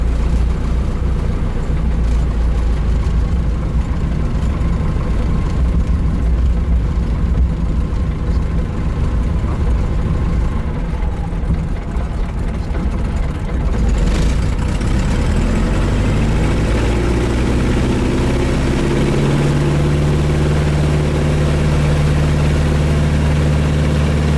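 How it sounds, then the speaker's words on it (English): A Luscombe light aircraft's engine powers up for takeoff on a runway, a loud, steady droning roar that swells and rises in pitch partway through as it accelerates, heard alone. "See what Luscombe 1813 kilo, taking off runway 35."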